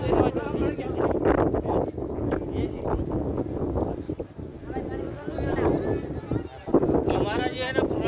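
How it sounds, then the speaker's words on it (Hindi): Strong storm wind gusts buffet the microphone at an outdoor goat market, a steady roaring rumble running throughout with someone talking over it. "बहुत तेज हवा चल रही है"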